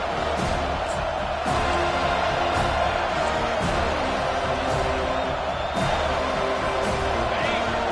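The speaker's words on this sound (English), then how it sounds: "this crowd is tearing the lid off this place" A dense stadium crowd roars continuously at a Clemson versus Florida State college football game on a third down, with loud sustained cheering and a few sharp peaks of whoops.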